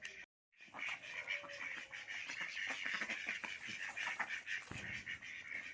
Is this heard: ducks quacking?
yes